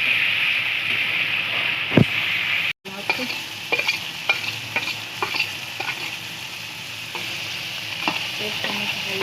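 A utensil stirring tomatoes and onions that sizzle and fry in a pan, with steady crackling and a few scraping taps, close and moderately loud.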